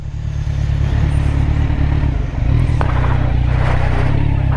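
A motorbike being parked outside a Mercedes-Benz showroom, its engine running loud and close with a rumbling idle, a brief dip, then a rough rev-up.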